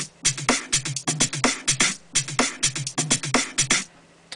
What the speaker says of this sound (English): This loop fully expanded actually sounds like this.